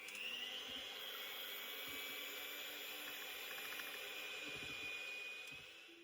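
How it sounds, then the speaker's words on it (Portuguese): Electric stand mixer beating sweetened condensed milk with fresh cream, a steady high motor whine with a constant mechanical drone running throughout, close and continuous before easing off at the end. "Leite condensado eu vou bater aqui, ó. Botei só um ladinho da minha batedeira."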